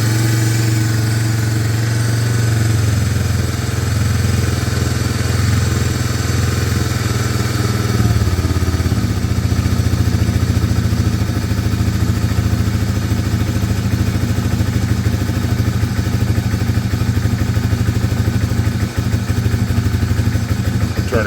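A 1995 Honda Fourtrax 300 ATV engine, long unused, idles steadily and loud up close, its low putter dropping slightly in pitch partway through as the idle is turned down, with no talking.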